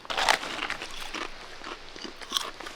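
Potato chips made with vegetable oil and Zebo barbecue seasoning crunched close up, with several crisp bites and chewing crackles; the loudest bite comes early and another near the end, with no talking.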